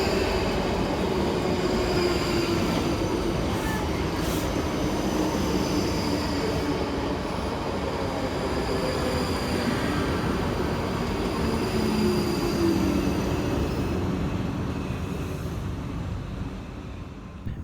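A pair of South Western Railway Class 458 electric units, 458428 and 458410, arrive at a station on a London Waterloo to Reading service, with a loud, continuous rumble and a faint high wheel squeal.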